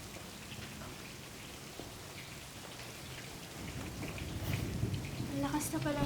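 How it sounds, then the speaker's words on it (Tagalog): Heavy rain pours steadily on surfaces in a continuous dense hiss, growing slightly louder toward the end, with a voice speaking faintly underneath near the close. "Ang lakas na pala ng ulan."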